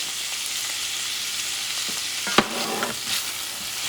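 Green beans and sweet peas stirred into chorizo frying in a pan for arroz con chorizo, a steady close sizzle with soft scraping stirs and one sharp clack of a utensil partway through.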